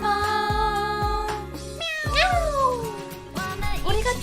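A voice imitates a cat, drawing out several wavering meows with rising and falling pitch over a steady musical background.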